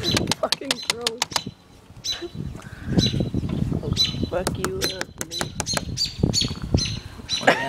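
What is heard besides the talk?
baby birds flapping and chirping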